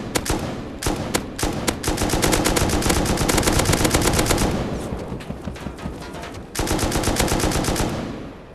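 Rapid machine-gun bursts and rocket impacts from an attack helicopter firing at a player in Rust, long dense volleys of loud gunfire broken by brief pauses before another sustained burst.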